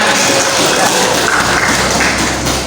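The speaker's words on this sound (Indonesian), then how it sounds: "Beri tepuk tangan" Classroom applause from students in a religious studies lesson, a steady dense wash of clapping filling the room for a few seconds, loud and close, with some murmured voices mixed in.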